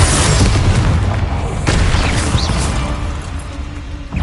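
An explosive spell blast in the video game Hogwarts Legacy, a loud booming burst that rumbles and rolls on, with a second impact partway through and another thump at the end.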